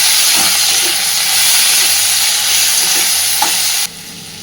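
Potato curry with spices, including Kashmiri chili powder, being stirred in a pan: loud, continuous frying hiss with soft scraping strokes, cutting off abruptly near the end, no talking.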